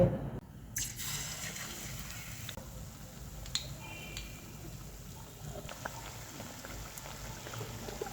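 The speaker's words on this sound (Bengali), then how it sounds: "এখন ফুলটাকে আমি তেলের মধ্যে ছেড়ে দেবো" Batter-coated pumpkin flower fritters fry in hot oil with a steady, moderate bubbling hiss after an initial sharp drop-in, with occasional faint taps of a utensil.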